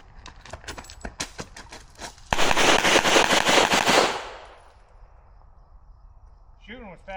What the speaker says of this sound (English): Shooting was fast as hell.